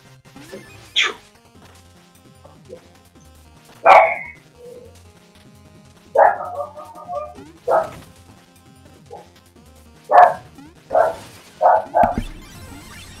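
A dog barks in a series of separate loud, close woofs, about eight spread unevenly over the stretch, with occasional yips and soft whimpers between them, heard alone over a quiet indoor background.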